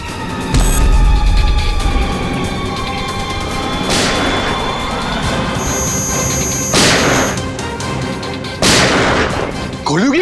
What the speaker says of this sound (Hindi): गोलियों की आवाज।